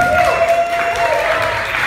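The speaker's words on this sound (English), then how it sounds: "So I need y'all to make some applause for her." A crowd applauds and cheers, a brief burst of clapping with a sustained tone running through it, fairly loud and close.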